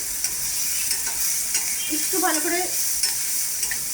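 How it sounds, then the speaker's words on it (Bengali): Spice masala with turmeric and black pepper fries in a pan over low gas with prawns, stirred with a steady scraping sizzle while someone speaks briefly. "মশলাটা ভেজে নিচ্ছি আমি।"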